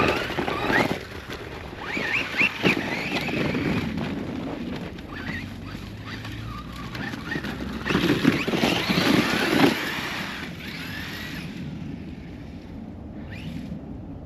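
An Arrma Kraton 4s RC car drives through snow and ice on a 10-degree day, its motor surging in broad noisy bursts close by, mixed with rough wind buffeting on the microphone.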